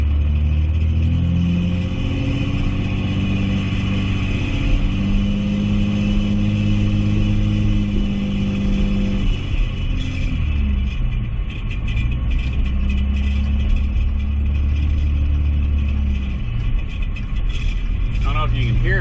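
Passing traffic rumbles beside a camper, a steady engine and road roar with a vehicle's pitch sweeping past in the first half, then continuing lower traffic noise close by.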